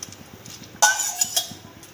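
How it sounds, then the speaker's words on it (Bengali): Fried potatoes drop into a simmering Bengali hilsa fish curry pot with a sudden clatter, followed by brief clinks and a short sizzle that fade within a second, over a quiet kitchen. "আলু ভাজাগুলো দিয়ে দিচ্ছি"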